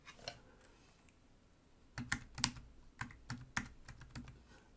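Computer keyboard keys pressed while editing a document, a few soft isolated clicks early then a quick run of about eight sharp taps, close and fairly quiet.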